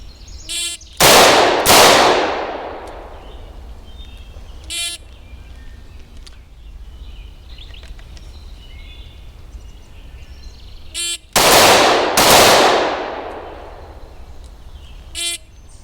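An M&P 40 Compact pistol and a Model 19 revolver are fired in a head-to-head concealed-carry speed comparison, giving two loud close bursts of rapid gunshots about ten seconds apart, each shot echoing and ringing out, with faint metallic clinks between the bursts.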